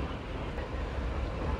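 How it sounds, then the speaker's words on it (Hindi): Shimla to Kalka toy train departing Tara Devi station on the mountain line, a steady broadband rumble and rattle of wheels and carriages heard up close, continuous and fairly loud throughout. "तारा देवी से हमारा डिपार्चर हो रहा है, चलिए डिपार्चर देखते हैं।"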